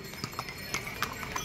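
Horses clip-clop along the Yamunotri pilgrimage trail in Uttarakhand. Several irregular hoof strikes ring out at moderate distance over a steady outdoor background.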